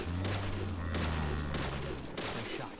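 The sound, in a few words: gunshot headshot in video game Deadly Premonition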